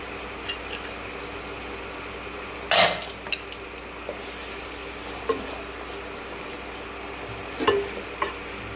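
Ginger paste frying in a pan for mutton dum biryani, with a steady low sizzle and a few sharp scrapes and clinks as it is stirred, two louder bursts standing out.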